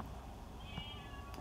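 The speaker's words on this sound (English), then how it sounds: "You might hear my kitty screaming at me for food right now." A pet cat meows for food indoors, a faint drawn-out mewing call standing out briefly over low room noise.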